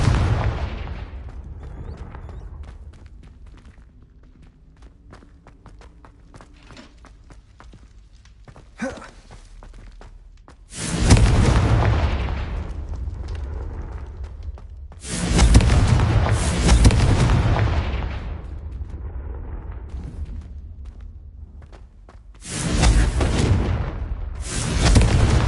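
A Confringo fire explosion spell in Hogwarts Legacy sets off several loud booming blasts with long rumbling roars and decaying tails, spaced apart over a quieter background of footsteps and game ambience.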